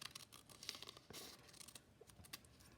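Scissors snipping through paper to cut out shapes for a collage focal point, a quiet run of crisp tearing and crinkling slices up close, with a few sharper cuts standing out.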